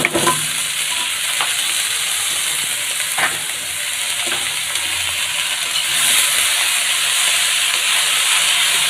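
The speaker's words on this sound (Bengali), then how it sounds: "আমি পেঁয়াজ এবং নারকেলটা আরেকটু সময় ভেজে নিচ্ছি" Onion and grated coconut fry in a pan, making a steady bright sizzle and steamy hiss, close and constant, with a few faint stirring scrapes.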